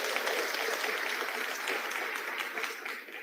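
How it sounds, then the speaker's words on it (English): An audience applauds an award at a university ceremony, a dense wash of clapping that fades slightly toward the end. "May I request you for a huge round of applause for this."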